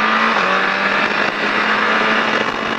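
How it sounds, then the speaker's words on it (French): A Triumph Daytona 675 motorcycle pulls hard around a racetrack at La Ferté-Gaucher on a warm-up lap, its engine a loud, steady, close roar with a sustained drone and no pauses. "on accélère pour chauffer les pneus, pour pas être en ralenti, hein, Damien."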